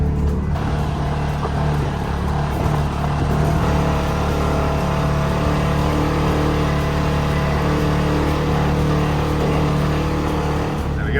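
A Polaris Ranger side-by-side engine runs loud and steady, revving as it tows a Yamaha Grizzly ATV up out of a gully, with a constant drone throughout.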